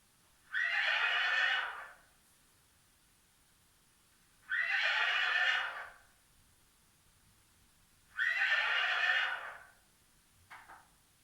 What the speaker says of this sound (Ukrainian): Як, Яка тваринка так говорить? Правильно, це конячка.